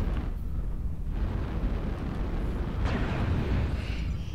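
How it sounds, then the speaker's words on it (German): Weapons fire and explosions from MechWarrior Online rumble continuously as a loud, dense, booming roar, with occasional sharper blasts breaking through. "da wird schon geschossen"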